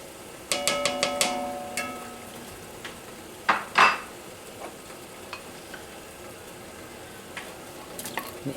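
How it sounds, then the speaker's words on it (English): Grated ginger heats in hot oil in an enamel Dutch oven, a soft steady sizzle with a quick run of metallic clinks at the start and a few scattered utensil knocks against the pot. "I'm going to put this little bit of grated ginger and let that heat with it"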